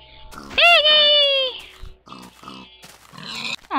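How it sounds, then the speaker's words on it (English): Minecraft pig oinks and grunts up close in a short series, with a drawn-out squeal at the start and choppy grunts after. "Hi, Mr. Piggy! Piggy! Piggy"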